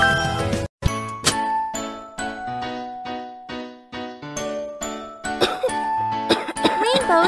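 Cartoonish coughs from a baby pony character in a pony-care game sound in a series of short bursts among bright jingling chimes and tinkling effects.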